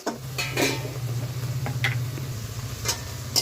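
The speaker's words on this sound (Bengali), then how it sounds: "এইভাবে নেড়ে চেড়ে দুই থেকে তিন মিনিট সময় নিয়ে কষিয়ে নেব যেন কড়াইয়ের তলায় লেগে না যায়" Water lily stems and a little fish being stir-fried in a wok: spatula scrapes and a soft sizzle come through close by, over a steady low hum with no talking.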